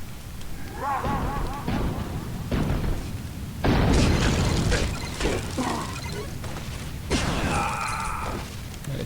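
Polar Pounding attack in the mobile dungeon boss game, with booming impacts, bursts and shimmering icy effects layered over game music, while a voice talks beneath.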